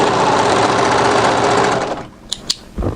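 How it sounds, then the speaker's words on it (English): An overlocker runs fast along the edge of a cardigan's fabric, a loud, steady mechanical whir close by for about two seconds, then stops, followed by a couple of sharp clicks and a soft handling sound. "you can either overlock straight off the end"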